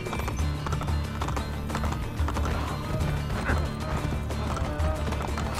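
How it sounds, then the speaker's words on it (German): Horses gallop in the video game Assassin's Creed Brotherhood, a steady loud clatter of hooves under busy in-game noise, with no talk over it. "wenn zwei Pferde ange galoppiert kommen"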